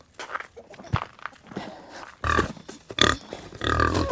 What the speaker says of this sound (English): Now it's time to feed and water the pigs.